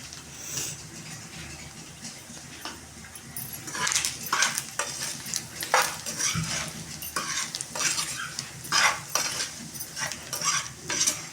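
Liver and heart fry being stirred in a pan, a steady sizzle with repeated scraping and clinking of a spoon against the metal, loud and close throughout, no talking.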